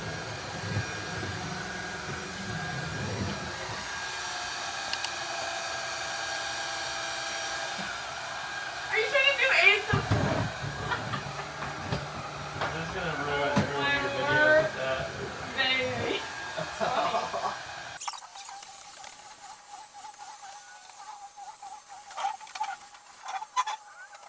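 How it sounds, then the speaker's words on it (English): A household vacuum cleaner runs steadily for most of the stretch, its drone rising and falling as it moves, then cuts off near the end while a voice speaks over it. "Is he scared of the vacuum? It's not scary."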